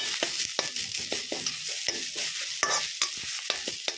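Chili frying in a pan for an Assamese khar dish with black gram and papaya, a steady sizzle broken by repeated sharp scrapes and knocks of a spoon stirring, close and continuous with no talking.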